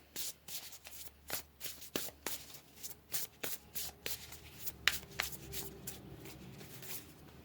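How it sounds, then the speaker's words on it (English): Tarot cards being shuffled in quick, papery bursts, a steady rhythm of about twenty short riffles and snaps close to the mic, with no voice over them. "Let's pull another card here."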